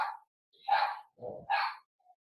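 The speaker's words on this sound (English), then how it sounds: "he hasn't barked all day, and now he's starting" A dog barks a few times nearby, short separate woofs with brief gaps, ending on a faint yip.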